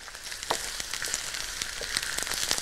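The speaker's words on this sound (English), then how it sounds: "Mmm, the sizzling now." Vegetables sizzle and crackle steadily in a hot pan, close by, with small spitting pops throughout.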